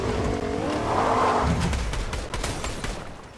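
An engine note rises as a vehicle drives in the video game Fortnite, with a smooth revving sweep followed by gritty skidding and rumbling, moderately loud and without talk.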